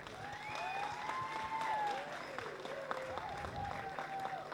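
Audience applause fills an auditorium after a Marathi play staged by Maharashtra Mandal Singapore, a steady dense clatter of hands with some whistle-like tones rising and falling over it.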